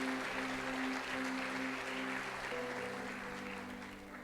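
A church congregation applauds steadily for about four seconds, a dense wash of clapping that fades slightly at the end, with sustained keyboard tones held underneath.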